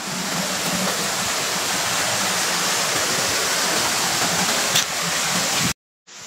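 Steady, full rushing of a small waterfall on a clear river pours continuously at close range, broad and unbroken, before cutting off abruptly at the end.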